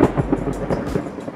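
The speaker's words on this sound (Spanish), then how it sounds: "En este video se puede ver el estruendo de un trueno que parece que va a derribar los cuadros que tengo" A loud, nearby thunderclap from lightning rolls and rumbles continuously in deep, booming pulses with no voices present.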